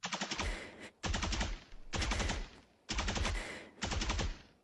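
Vandal rifle spraying in the Valorant video game: four loud, close bursts of rapid automatic gunfire, each roughly a second long, separated by brief gaps.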